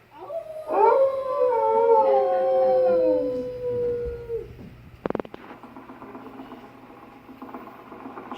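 A dog gives a long, wavering howl that rises and slowly trails off over several seconds. A short burst of clattering follows, then a quiet background hum.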